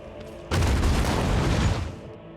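A demolition blast in Warhammer 40,000: Rogue Trader, a melter charge going off as a sudden loud boom that rumbles on for about a second and a half before fading, heard on its own with no talk.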